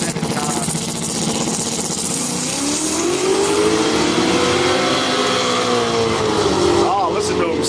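Race cars at a Quick Street drag racing event accelerate past, a loud steady engine roar with rising harmonics sweeping up and down over nearly eight seconds, with an announcer talking over it.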